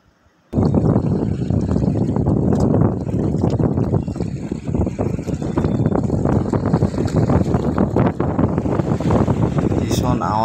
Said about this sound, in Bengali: ভীষণ আওয়াজ, শনশন করে আওয়াজ শুনতে পাচ্ছ সবাই নিশ্চয়ই, এবং জলের সুন্দর আওয়াজটি শুনতে পাচ্ছ।